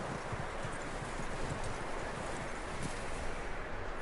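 Horse hooves clip-clop steadily over a dense background of noise in Red Dead Redemption 2, a continuous plodding rhythm without speech.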